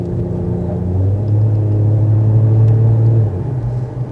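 Toyota Crown Athlete JZS171 heard from inside while driving, a steady low engine and exhaust drone that holds close and loud, then dips slightly near the end, with no talking.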